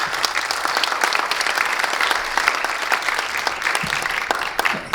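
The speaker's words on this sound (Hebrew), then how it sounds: "קודם כל שוב פעם כפיים לרועי אורנשטיין." Loud, close applause from an audience after a film screening, brisk continuous clapping with a few sharper individual claps standing out, sustained throughout without speech.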